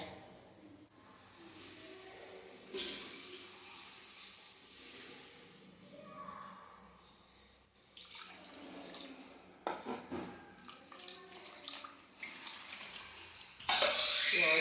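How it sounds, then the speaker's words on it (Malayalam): Water pours into a pot of Kerala-style fish curry made with ground coconut and raw mango, running in intermittent gushes and splashes that grow louder and brighter toward the end. "കുറച്ചുകൂടി വെള്ളം ഒഴിക്കട്ടെ"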